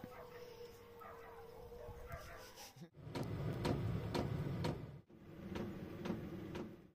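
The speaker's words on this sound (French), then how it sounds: "Concert de chiens avec les cloches de l'église." Village dogs bark in a festive evening chorus while church bells peal, repeated yaps and barks coming in waves at a moderate distance, faint overall with a wash of background noise.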